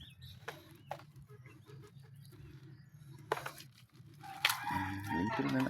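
Turkey calls, a few crowing and clucking cries rising over a low steady background hum, fairly close.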